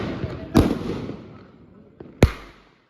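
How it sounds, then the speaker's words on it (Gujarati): Diwali firecrackers set off outside a flat: two sharp, loud bangs about a second and a half apart, each followed by a fading crackle and echo, with faint talk in the background. "અહીંયા ભાઈ ને પપ્પા ને ફટાકડા ફોડે છે"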